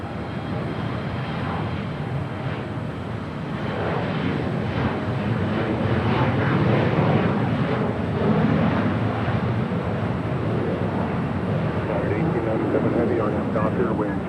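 A United airliner landing on runway 25 left at LAX, heard as a loud broad engine roar that builds and holds under a continuous air traffic control radio voice.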